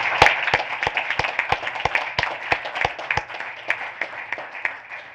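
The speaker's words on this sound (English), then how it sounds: "can we have a round of applause for our interns?" A small group claps at a school board of education meeting, a sparse, fairly quiet round of applause with distinct individual claps that tapers off over a few seconds.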